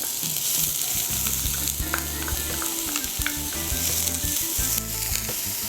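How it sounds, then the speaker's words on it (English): Onions hit hot oil in a pan on a cooking show and sizzle loudly and steadily, with a bright, constant crackle and some stirring. There is no talk. "We're going to add a little bit of oil. We're going to put some onions in."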